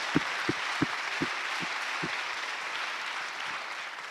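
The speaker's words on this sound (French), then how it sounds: "On peut placer là, on applaudit." Audience applause at a conference session on a women's entrepreneurship training platform, a broad steady wash of many hands clapping with a few sharper claps standing out early, holding for about four seconds and tapering slightly.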